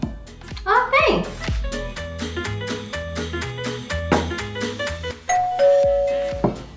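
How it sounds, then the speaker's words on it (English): A doorbell rings repeatedly, its bright chime tones sounding over a busy, bouncy music backing, ending in one sustained ding. "Is that the doorbell?"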